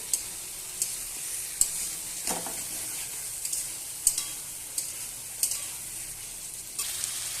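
Potatoes cooking in a fried spice paste in a pan give a quiet, steady sizzle, and the stirring utensil adds light periodic taps and scrapes at a roughly regular pace. Nobody speaks.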